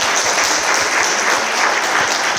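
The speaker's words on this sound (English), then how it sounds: "Let's give them a round of applause" Audience applause for a panel of speakers at a community health event in Detroit, dense steady clapping that fills the whole stretch at an even level with no talking.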